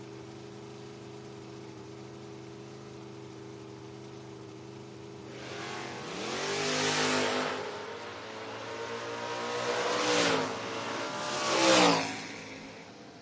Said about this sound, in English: Frank, the 2010 model Camaro, 677 dial in, and Todd Atkinson dials in 602 for his first generation Camaro